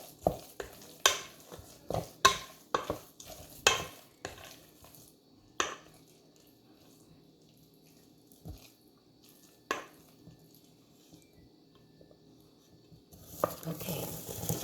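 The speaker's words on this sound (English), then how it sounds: "Let me cook it. Let me mix it around a little bit more" Thai mango sticky rice being stirred in a DASH appliance: a burst of scraping, tapping utensil strokes against the pan, then quieter intermittent clinks under a faint sizzle, ending in a louder rustling stir.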